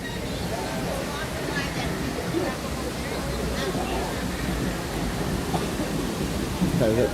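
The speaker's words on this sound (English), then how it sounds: "I love this waterfall over here" Continuous broadband rushing of a waterfall at Disney's Animal Kingdom, steady and fairly loud, with crowd chatter and faint voices mixed underneath.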